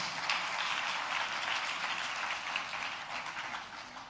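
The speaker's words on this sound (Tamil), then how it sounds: "கைதட்டுங்க ஆண்டவருக்கு, ஆண்டவருக்கு கைதட்டுங்க" A church congregation claps for the Lord during a Tamil worship service, a dense, steady wash of many hands filling the room without a break.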